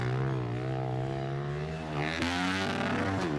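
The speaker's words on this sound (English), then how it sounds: "Revving that thing." Motocross 110 motorcycle engine revving hard at a freestyle competition, a loud sustained whine that climbs and wavers in pitch, bouncing off the limiter near the end.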